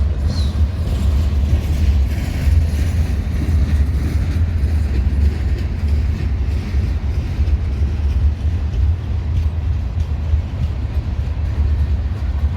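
A very long freight manifest train rolling past near West Colton, with a single AC4400 locomotive shoving at the rear. A steady, loud, close rumble of wagons with low engine drone and faint wheel clatter, no voices.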